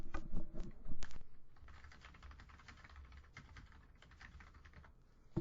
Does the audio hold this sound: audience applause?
no